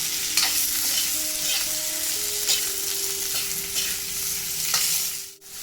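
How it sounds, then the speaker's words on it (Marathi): Chopped onion and potato fry together in hot oil in a pan for a brinjal curry, giving a dense, steady close-up sizzle with faint spatula scrapes and no talking. "आपण बटाटाही घालूया आणि आता मस्त फ्राय होऊन देऊया"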